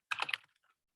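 A short cluster of computer keyboard taps, a handful of quick close clicks lasting under half a second, then silence.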